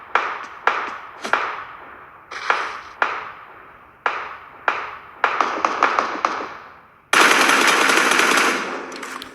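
Repeated bursts of PUBG gunfire with sharp cracks and decaying echoes, ending in a sustained rapid automatic volley; no talking.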